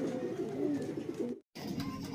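Racing pigeons coo in a steady, close, continuous murmur at a loft during a pigeon race, with a brief drop to silence before the cooing resumes.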